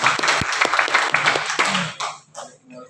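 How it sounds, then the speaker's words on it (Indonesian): Audience at an indoor event in a hall in Tangerang clapping in a short burst of applause that fades out after about two seconds. "Kita berikan aplaus untuk kita pada siang hari ini."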